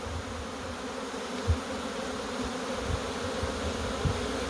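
A honeybee swarm being caught in a garden, a dense steady buzzing hum from many bees close by, with a few soft knocks and no voices.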